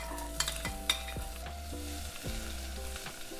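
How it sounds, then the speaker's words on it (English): Onions frying lightly in oil for savory baked beans, a low steady sizzle with a few soft stirring clicks, close and quiet, a tonal hum running underneath. "Now let's lightly fry the onions."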